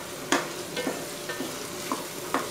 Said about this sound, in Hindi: अच्छा 5 मिनट हो गए आलू को इसके साथ फ्राई करते हुए